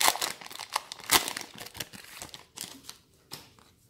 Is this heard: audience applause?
no